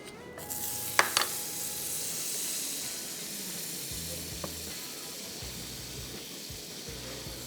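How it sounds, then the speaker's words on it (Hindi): Butter sizzling in a pan on a stovetop as a mushroom sauce is started, a steady soft hiss with a couple of brief clinks near the start. "पैन में मक्खन लिया, चूल्हा कर दिया ऑन"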